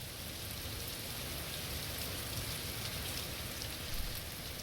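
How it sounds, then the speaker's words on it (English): Steady rain falls through a forest, a dense, even hiss of drops striking leaves and ground that holds at a constant level throughout, with no voices. "like the sound of rain falling in the forest"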